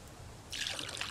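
A quiet, brief trickle of water in a survival video game, starting halfway through as water is refilled, a soft splashing pour against near silence.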